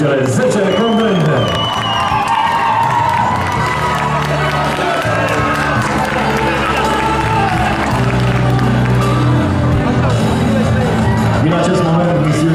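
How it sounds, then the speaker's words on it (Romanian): A large audience at a Christmas beauty pageant applauds and cheers the ten contestants, loud crowd noise with whoops and shouts mixed with music and clapping throughout, voices audible in the mix. "vreau aplauze încă o dată pentru cele 10 concurente"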